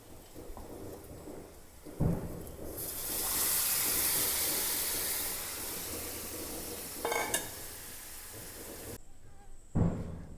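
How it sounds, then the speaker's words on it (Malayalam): A mixer grinder jar is rinsed under running water in a home kitchen, a broad splashing rush swelling loudly in the middle before tapering off, with clattering handling knocks of the jar at the start and near the end. "മിക്സിയുടെ ജാറൊക്കെ ഒന്ന് കഴുകി റെഡിയാക്കി എടുക്കാം നമുക്ക്"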